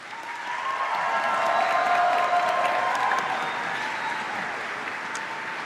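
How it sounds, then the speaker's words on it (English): Graduates applauding at a university convocation ceremony, a broad sustained wash of clapping from a large crowd that swells and then holds steady, with faint cheering mixed in. "reciprocate by applauding your family, friends, faculty, and staff, and all of those who have helped you reach your goal"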